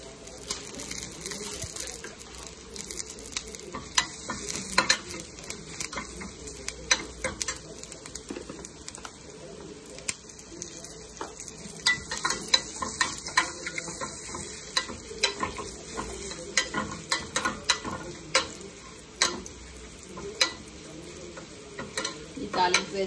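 Curry leaves and asafoetida temper in hot coconut oil, giving a continuous crackling sizzle broken by sharp pops and spits, with occasional stirring clinks close by and no speech.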